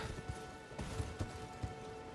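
Faint hooves clop and thud in an uneven galloping rhythm as a horse runs in Elden Ring, a few soft hoofbeats over low background noise.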